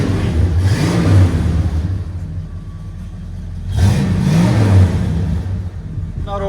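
A Ford F-250 with a 7.5L (460) V8 and Flowmaster Super 40 true dual exhaust revs twice, each blip a deep swelling roar that settles back to a rumbling idle, heard nearby outdoors with wind noise.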